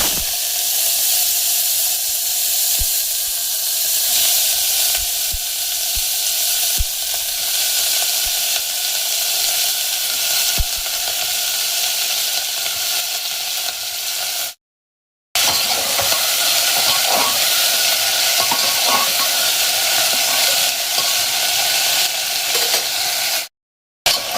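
Bay leaves and chopped beans hit hot oil, giving a loud, steady broadband sizzle and hiss that carries on evenly, cut by two brief silent gaps.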